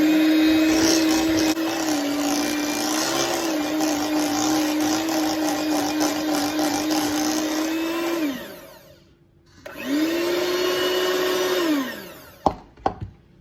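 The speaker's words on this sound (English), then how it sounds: "then I'm gonna beat it until it gets creamy" Electric mixer beating a mixture until creamy for a strawberry-coconut tres leches cake, running as a loud, steady whine for about eight seconds, briefly cutting out, then whirring again before a few clunks at the end.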